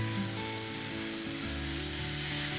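Masala of turmeric, red chili powder and garam masala fries in oil for a rohu fish curry, a steady close dense sizzle with no pauses throughout.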